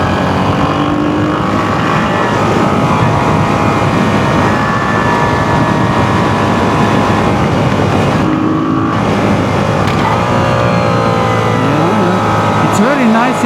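A Moto Guzzi V7 Sport motorcycle engine drones loudly and continuously while riding, with rising and falling pitch through gear changes and steady wind rush close to the mic.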